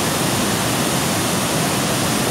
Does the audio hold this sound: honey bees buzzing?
no